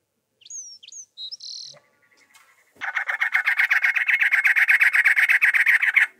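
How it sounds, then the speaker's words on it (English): A cactus wren in desert scrub at Juniper Hills near Big Rock Creek, Los Angeles County, gives a long run of gruff, rapid, churring calls, loud and close, after a few brief higher bird chirps. "These gruff calls are coming from one of the signature birds of our desert, the cactus wren."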